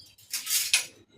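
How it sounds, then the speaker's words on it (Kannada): A knife slicing a small onion lengthwise on a board, two quick crisp swishing cuts close by in a quiet kitchen. "ಒಂದೇ ಒಂದು ಸಣ್ಣದು ಈರುಳ್ಳಿ ಕಟ್ ಮಾಡಬೇಕು."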